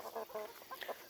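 A chicken on a goat farm gives a few quick, soft clucks, close by, over a quiet farmyard background with no talking.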